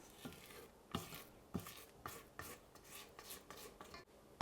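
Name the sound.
scraping down the mixing bowl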